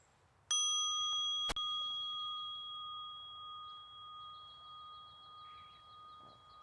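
A mindfulness bell in a native garden rings once with a bright, sustained metallic tone that slowly fades into the distance over several seconds, alone against a faint low background hum.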